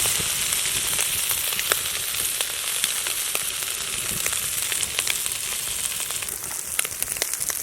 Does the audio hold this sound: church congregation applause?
no